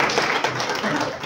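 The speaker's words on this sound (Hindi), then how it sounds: "तालियां होनी चाहिए" Brief burst of audience clapping at a pigeon flying tournament prize ceremony, a dense wash of hands with voices mixed in.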